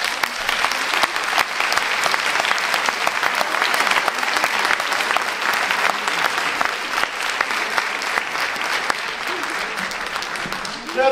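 An audience at a talk on violence and electronic media addiction bursts into sustained applause, dense steady clapping from many hands that carries on for the whole stretch.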